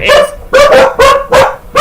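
Dogs bark loudly and close by in a home during a drawing stream, five sharp evenly spaced woofs roughly every half second, with a brief word spoken between them.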